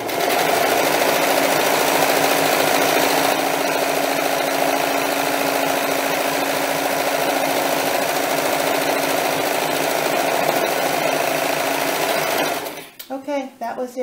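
A serger sewing machine stitches a rolled hem on fabric for a doll dress, running as a steady, loud, continuous mechanical whir for about thirteen seconds before stopping abruptly, with a few brief clicks and rustles after.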